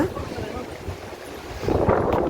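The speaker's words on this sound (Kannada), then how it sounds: "ಸೌಂಡ್ ಕೇಳಿಸ್ಕೊರಿ ಗಾಳಿದು ಹೆಂಗೈತೆ" Strong wind roars across the hilltop of Himavad Gopalaswamy Betta near a Chola-era temple. It is a steady, rumbling buffeting on the microphone that surges louder near the end, with a voice speaking over it.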